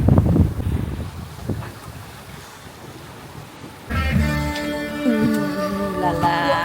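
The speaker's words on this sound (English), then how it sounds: "How much wind do we have? 18 knots. True wind." Steady 18-knot true wind rushes and buffets aboard a sailboat off New Zealand, a continuous gusty roar of wind noise that grows louder partway through, with no talking.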